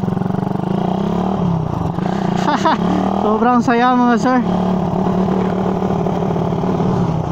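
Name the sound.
motorcycle engine revving, Raider 150 or RS 150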